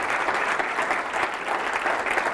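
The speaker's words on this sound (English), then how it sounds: "give him a round of applause" A dense, steady round of applause from an audience, loud and continuous with no talking over it.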